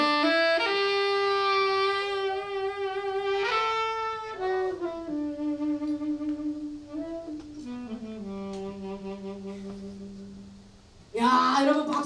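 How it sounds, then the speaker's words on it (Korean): A short solo saxophone sample plays a smooth, sustained melodic phrase at a charity concert in Bupyeong Art Center, fairly soft, ending with a sudden loud burst of noise. "색소폰 연주 굉장히 듣기 좋죠?"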